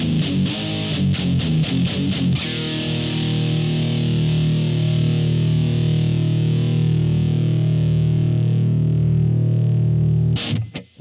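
A Gibson Firebird X electric guitar plays through its onboard distortion effect, with a few quick strummed chords and then a long, loud sustained distorted chord that rings alone before cutting off abruptly.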